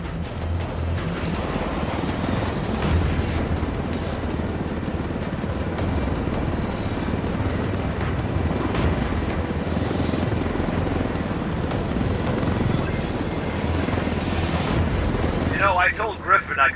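A helicopter flies in the Ghost Recon Wildlands video game, with a steady, loud, close rotor and engine roar throughout and a brief clatter near the end.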